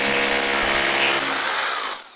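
A heat gun whirs loudly with a bright, steady hiss and hum, then cuts off abruptly near the end.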